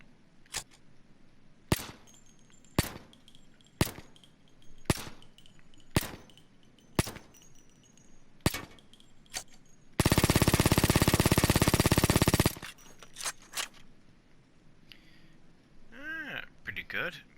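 A suppressed MAC-10 submachine gun in Payday 2, heard as a run of evenly spaced muffled shots with sharp clinks like casings landing, then a loud burst of dense noise lasting a couple of seconds, followed by a few more clicks and ringing tones.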